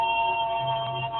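A mobile phone sounding a message alert indoors, a steady electronic tone with sustained pitched notes lasting about a second, fairly loud and close.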